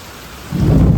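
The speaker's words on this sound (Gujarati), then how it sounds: "વરસાદ તો કઈ રહેવાનું નામ લેતો નથી" Heavy rain pours down during a steady downpour, a dense low roar that swells suddenly halfway through and stays loud and close, with no voices.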